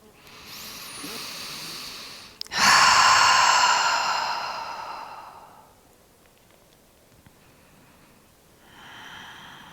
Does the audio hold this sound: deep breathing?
yes